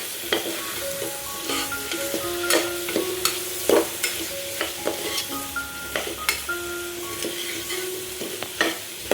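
Cashews stirred and fried in sizzling masala for cashew chicken, a spoon scraping the pan in repeated irregular strokes over a steady close sizzle.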